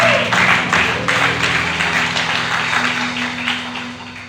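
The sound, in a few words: congregation applause in church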